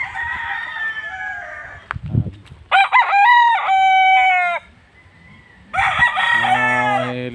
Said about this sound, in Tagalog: mahilig sa manok dyan marami ritong mga manok